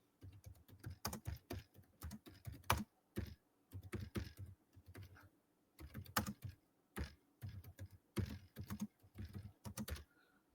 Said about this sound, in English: Let me type it up.